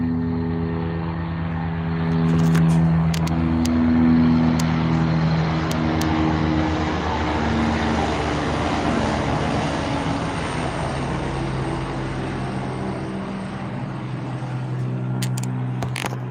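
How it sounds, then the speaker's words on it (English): A steady low engine drone with a rhythmic rotor hum passes overhead, holding loud and constant throughout with no talking. "Here comes the helicopter."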